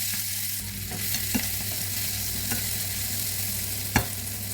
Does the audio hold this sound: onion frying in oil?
yes